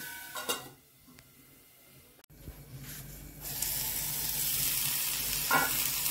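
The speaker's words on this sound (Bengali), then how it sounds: "মোটামুটি ভাজা ভাজা হয়ে গেছে, সব জল শুকিয়ে গেছে।" Vegetables for chalkumro shukto, an ash gourd dish, fry in a pan as the water cooks off, with a steady sizzle that swells louder in the second half and a brief clatter of a utensil near the middle.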